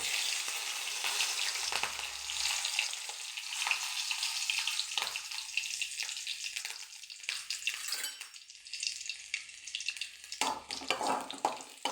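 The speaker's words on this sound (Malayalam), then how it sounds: "അത് നന്നായി ചൂടായി വന്നിട്ടുണ്ട്. കടുക് പൊട്ടി." Mustard seeds spluttering in hot oil in a home kitchen, a crackling sizzle that rises and falls with bursts of popping and a short running-water sound in between.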